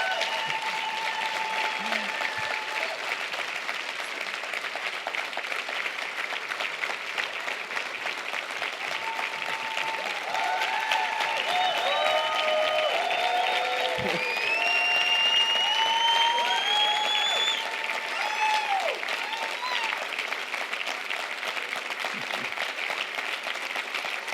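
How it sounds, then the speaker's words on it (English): Long, steady audience applause for a speaker's coach, an even wash of clapping heard from a distance, with faint voices and a few whistles rising above it midway. "I would like everyone to give a big round of applause to my coach, Dr. Stephen Maranville."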